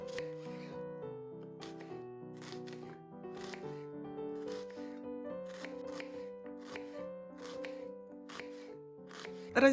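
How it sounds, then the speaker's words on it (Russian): A knife slices a single onion into half rings, producing a string of short, crisp cuts at a fairly steady pace beneath continuous melodic background music. "Полукольцами нарезаем один репчатый лук."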